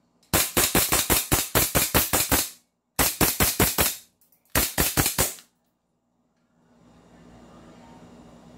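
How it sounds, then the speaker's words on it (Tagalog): A 2011-pattern pistol fires three rapid strings of shots, about eight, five and four rounds, each crack loud and sharp, with short pauses between strings and quiet range noise afterward. "Firing!"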